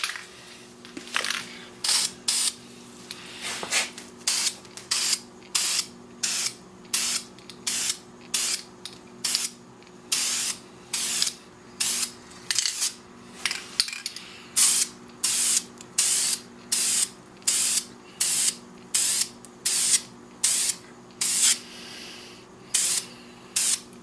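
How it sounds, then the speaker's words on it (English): Repeated short bursts of spray paint from an aerosol can coating the parts of a Smith & Wesson Sigma pistol, about twenty evenly spaced hisses close up, each lasting about half a second with brief pauses between. "I'll spray paint what I can, then I'll let it dry"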